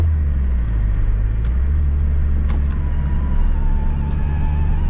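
A manual car's engine roars steadily in a low gear before the upshift, a close, continuous low drone with mild vibration and a faint whine layered over it.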